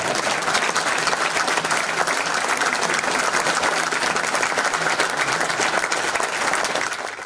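Steady, dense audience applause fills a hall at a mayor's installation ceremony in Reusel-De Mierden, continuing evenly and loud throughout before easing slightly at the very end.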